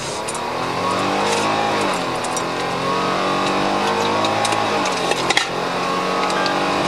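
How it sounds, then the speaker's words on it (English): A car with no license plates and a loud exhaust accelerates hard, its engine note rising and falling steadily as it pulls away at close range, with no talk over it. "emitted a noticeably loud"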